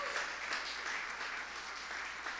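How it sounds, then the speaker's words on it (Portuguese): A church congregation claps after a sermon, producing a moderately quiet, steady wash of applause that fills the hall for a couple of seconds. "Dê um aplauso a Jesus por isso."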